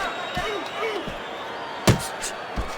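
A single sharp punch thud lands in a boxing video game amid steady crowd noise and commentary, with a couple of softer impacts around it.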